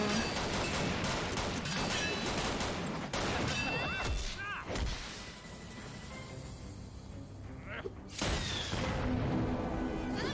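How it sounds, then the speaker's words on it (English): Animated gunfire from the RWBY series fires in rapid bursts among crashes, thuds and whooshes, mixed with music and effects at moderate loudness. "The gunshots."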